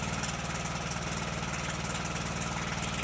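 An 18.5 horsepower Briggs & Stratton engine on a John Deere LA100 lawn tractor runs steadily with a rapid, even, chugging idle, loud and close, no voices.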